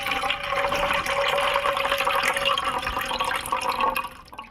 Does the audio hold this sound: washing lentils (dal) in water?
yes